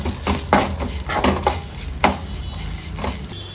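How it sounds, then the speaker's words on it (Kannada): Garlic and ginger frying with spices in a pan for a fish curry, a steady loud sizzle broken by repeated scrapes and clinks of a spoon stirring against the pan, close up with no talk. "1 ಗಡ್ಡೆ ಬೆಳ್ಳುಳ್ಳಿ, 1 ಇಂಚು ಶುಂಠಿಯನ್ನು ಸೇರಿಸ್ಕೊಂಡು ಚೆನ್ನಾಗಿ ಫ್ರೈ ಮಾಡ್ಕೊಳ್ಳೋಣ"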